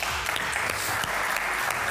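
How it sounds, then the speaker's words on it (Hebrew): A live television studio audience at a political talk show claps loudly for a guest invited up from the crowd, a dense, sustained burst of applause with no talk over it. "תנו לו כפיים, תנו לו."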